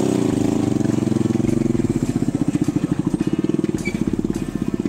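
Motorcycle engine running steadily while riding on a pilgrimage road trip, a continuous low rumble with a rhythmic pulsing throb that grows stronger partway through, loud and close throughout.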